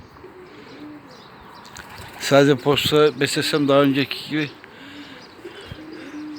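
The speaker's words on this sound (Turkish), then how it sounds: "Çok kuş var." Several pigeons coo softly in the background while someone talks close up over them.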